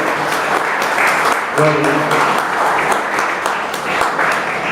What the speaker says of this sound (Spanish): Denle un aplauso al Señor por su palabra